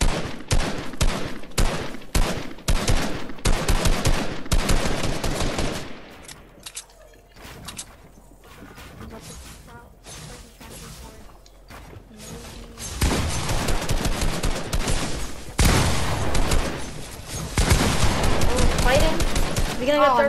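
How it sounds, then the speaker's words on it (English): Fortnite assault rifle gunfire during a boxfight, rapid bursts of close, loud shots in dense runs with a quieter gap midway, mixed with game effects and a voice talking over it. "He's gonna go in for AR shots."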